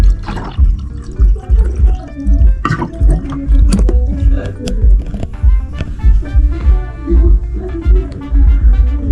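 Water runs from a room water dispenser in a lodge in Narok, close by, with gurgling, dripping and splashing in an uneven, bubbling rhythm.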